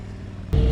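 Steady motorcycle engine hum that suddenly swells into a louder, throatier rev partway through, close by.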